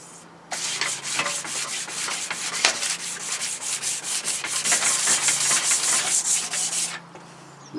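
Close, continuous sanding scrapes through paint coats on a Triumph motorcycle bash plate, a loud rhythmic rubbing with repeated strokes that stops abruptly near the end.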